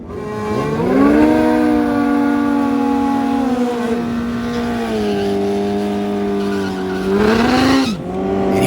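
Loud, close whine of a Hayabusa drag racing motorcycle at a national championship event, a sustained high-pitched engine note that holds steady, then climbs and drops sharply as it passes.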